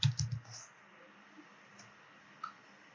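A short burst of computer keyboard typing while entering a menu resource name in Android Studio, a few quick close keystrokes clustered at the start followed by a couple of faint isolated clicks in a quiet room.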